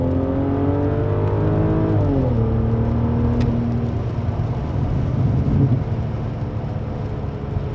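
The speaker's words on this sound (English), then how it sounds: "as well as the V12 noise, it's metaphorically music to my ears" A V12 BMW 7 Series engine revs loud and close from inside the car, its pitch climbing, dipping at a gear change and then settling into a rough, rumbling drone, with no talking.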